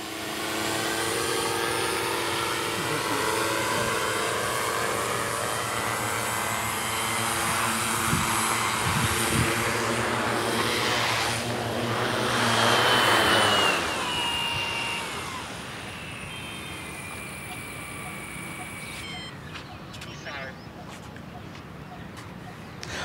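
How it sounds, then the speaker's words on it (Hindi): A large agricultural drone, assembled locally at a cost of around 8 lakh rupees, hovers and descends to land on a road with a loud, steady rotor whine that gradually fades, while someone talks over it. "अब देखिए ड्रोन को केंद्रित कर दिया गया और फिर यह जहां पे उड़ा सड़क पर जहां से उड़ा था उसी स्थान पर यह आ"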